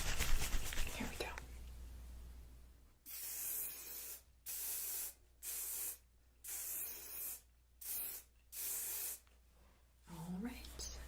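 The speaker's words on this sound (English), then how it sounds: "I'm going to just do an all over spray of the hair" Hairspray hissing in an all-over spray of the hair, several loud close bursts in a regular on-off rhythm, each about a second long, after a quiet stretch of faint rustling.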